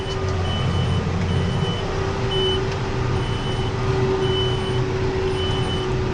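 A vehicle's reversing alarm beeps steadily in a repeating rhythm over a constant, loud rumble of engine noise outdoors.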